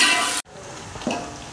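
Chopped onions frying in hot oil for a moong dal, with a loud, dense sizzle at first that breaks off abruptly and then carries on as a softer, steady crackle with a brief stirring clatter.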